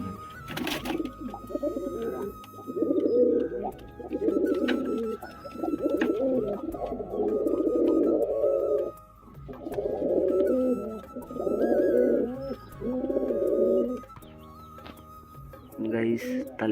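Pigeons coo in repeated rhythmic bursts close by, with short pauses between calls and a faint tonal hum running underneath.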